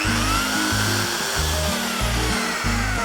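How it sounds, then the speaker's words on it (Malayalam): A drilling machine bores holes for hinge screws in a chicken cage made from an old bike tyre, its motor whining steadily up close while the pitch steps down and up in short pulses. "അടയാളപ്പെടുത്തിയ ഭാഗത്ത് സ്ക്രൂ ചെയ്യാനായിട്ട് ഡ്രില്ലിംഗ് മെഷീൻ ഉപയോഗിച്ച് ഹോൾ ചെയ്ത് കൊടുക്കാം."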